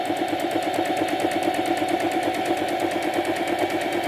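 A Singer Heavy Duty 4432 sewing machine, a new 2023 model, runs steadily while stitching a straight seam, giving a continuous fast mechanical whir with even rhythmic ticking and no talk.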